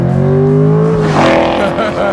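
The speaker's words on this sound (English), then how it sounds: "This is a 2014 C7 Corvette." A 2014 Chevrolet C7 Corvette engine holds a steady low drone that swells and revs mid-clip, close and loud, with people talking over it.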